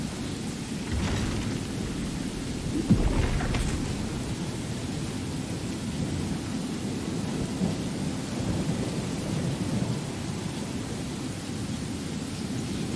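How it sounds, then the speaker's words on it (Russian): Steady rainfall in Skyrim with a heavy, rumbling roll of thunder early on, the downpour hissing on evenly throughout with no voices. "дождь закончится сегодня или нет?"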